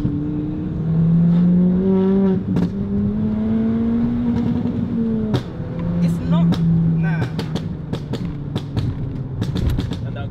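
A Stage 3 Ford Fiesta ST tuned to 290 BHP accelerates hard, its engine note climbing through the gears with sharp pops and crackles from the exhaust, loud and close inside the cabin while someone talks over it.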